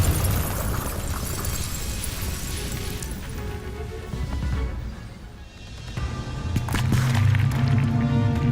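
A Bombarda spell bursts in Hogwarts Legacy with a booming, crashing explosion and scattered debris, followed by ringing tonal game sounds as the blast fades.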